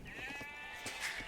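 A single sheep bleats in Age of Empires 2, a wavering, nasal in-game cry heard up close over faint game ambience.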